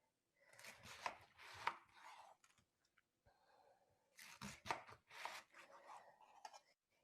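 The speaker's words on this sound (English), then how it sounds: "I'm going to cut this into, like 1 inch, 3/4 of an inch steaks" A knife chops a cabbage into thick steaks on a cutting board, two clusters of crisp, crunchy cuts close to the microphone with short pauses between the strokes.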